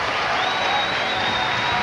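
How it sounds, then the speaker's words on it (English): A crowd at a 1995 professional bowling tournament, the Touring Players Championship, applauds in a dense, steady wash of clapping that holds at an even level throughout. "Crowd reaction. They're alive here tonight."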